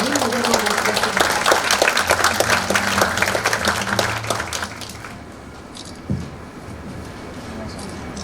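A crowd at a formal ceremony gives dense, loud applause to welcome the Indonesian ambassador to the stage, then it fades after about five seconds into room noise with a single thump.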